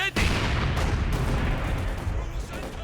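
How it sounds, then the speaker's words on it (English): German mortar shells hitting a half-track in the World War II strategy game Company of Heroes 2: a sudden heavy blast opens a dense, rumbling wash of explosion and battle noise that slowly fades. "Mortar half tank seemingly took a very nice hit there from the German mortar."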